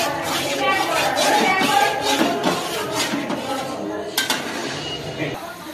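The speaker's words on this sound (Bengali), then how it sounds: "জ্বালানো আছে গ্যাস, চিনিটাকে একটু নাড়িয়ে নি।" Sugar stirred in a metal pan over a lit gas stove, heard as repeated scraping and clinking of a utensil against the pan, close and fairly loud, with a sharp clink near the end.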